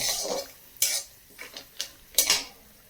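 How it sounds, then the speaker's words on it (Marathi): Peanuts roast in oil in a pan on a stove, giving scattered clinks and rattles as a spatula stirs them, with four or five sharper metallic strikes at uneven intervals over a quiet background. "दोन मिनटं मी चांगलं व्यवस्थित शेंगदाणे तेलात भाजून घेणार आहे"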